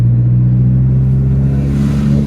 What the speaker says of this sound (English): that exhaust is quite loud